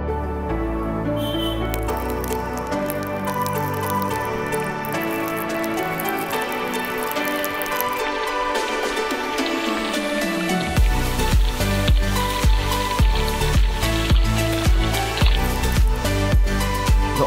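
Water splashing and pattering over a dropped, already broken Samsung Galaxy J6 2018 phone during a water test, a dense steady wash that turns into louder, choppier bursts of splashes partway through, with no talking.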